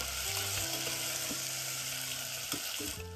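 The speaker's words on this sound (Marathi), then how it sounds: "सर्वप्रथम मी ही गोबी घेतलेली आहे, त्यानंतर बटाट्याचे काप जरा हलवून घ्यायचे." Cauliflower florets and potato slices frying in a pan for masala khichdi, a steady sizzle with occasional stirring scrapes and knocks, with a tonal hum in the background.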